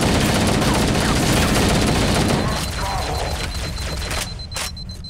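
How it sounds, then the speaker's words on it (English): Dense rapid gunfire and explosions fill a firefight in the video game Halo: Combat Evolved, loud and continuous at first, then thinning into scattered shots and rumble before fading. "I'm getting shot from behind?"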